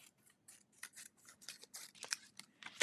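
Scissors trimming a Halloween craft card, a quiet, close run of quick snipping and crisp cutting strokes that speeds up and grows slightly louder toward the end.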